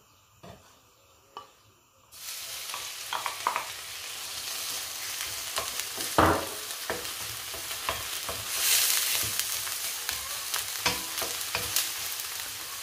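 Onion hitting a few spoonfuls of hot olive oil: after a quiet start, a loud continuous sizzle bursts in and carries on, punctuated by spatula scrapes and stirring clatter.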